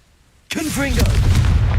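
A Confringo blasting-curse explosion in Hogwarts Legacy bursts in suddenly and loudly after a half-second of near silence, then rumbles on as a sustained blast, with a voice crying out over its start.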